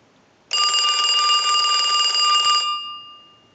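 A single long burst of a Western Electric Trimline telephone bell ringing, loud and close, about two seconds of rapid metallic trilling before it stops and fades.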